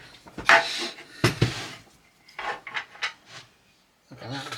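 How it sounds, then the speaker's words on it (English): Close rasping strokes of a big soft sanding pad working a part of a 1/6 scale SAS jeep model come in short irregular bursts separated by brief quiet gaps. "I've just found me big soft sanding pad as well"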